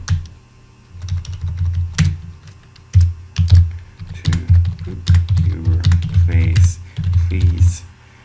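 Close, steady typing on a computer keyboard, bursts of clicking keys running through the whole stretch with brief pauses, while a low hum sits underneath.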